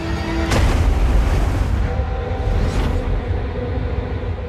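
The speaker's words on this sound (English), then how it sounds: "the torpedo does its fatal work, and the Housatonic sinks in minutes" Deep booming rumble of a torpedo explosion striking the warship Housatonic, a sharp hit followed by a sustained low roar that fades, with a second softer impact, no speech.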